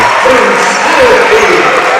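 Crowd noise at a high school basketball game between Henderson County and Evansville Memorial, a loud steady roar of cheering and clapping filling the gym, with a voice talking over it.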